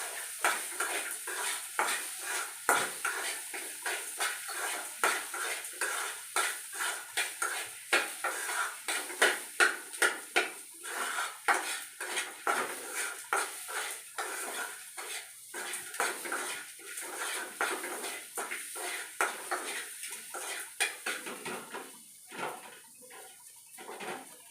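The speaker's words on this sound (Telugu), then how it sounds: "ఈ ఉల్లిపాయలు కొంచెం వేగాలి" Onions frying in a pan for a Telugu-style potato fry, a steady sizzle under busy clinks and scrapes of a utensil against cookware, close and continuous with no talking.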